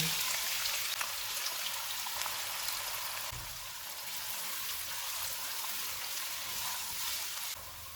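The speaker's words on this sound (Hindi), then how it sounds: "दो प्याज डालेंगे, इनको गोल्डन फ्राई करेंगे।" Onions frying to golden in a pan with green cardamom, a cinnamon piece and cloves, a steady close hiss and crackle that runs unbroken and eases slightly near the end.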